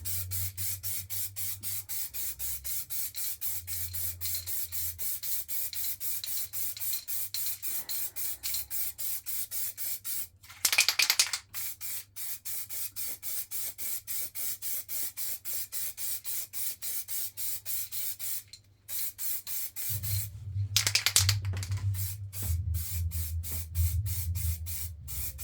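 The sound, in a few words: spray painting a coat on a sword prop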